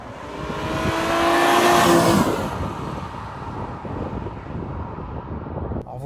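A 1992 Mercedes 300CE-24 engine rises to a loud metallic howl as the car accelerates past, peaking and then fading to a lower rumble with some wind noise.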